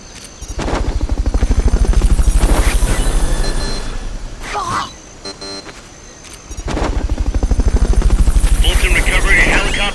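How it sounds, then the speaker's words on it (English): Fulton recovery helicopter in the video game Metal Gear Solid Peace Walker: a loud, rhythmic rotor thump swells, dips briefly with radio voice chatter in the middle, then returns at full strength. "Fulton recovery subject confirmed onboard helicopter."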